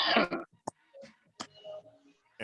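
A single short cough or throat clear sounds near the start, followed by soft scattered speech-like sounds and a second brief burst at the end.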